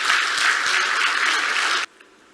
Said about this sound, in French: Saluons-la par des applaudissements nourris.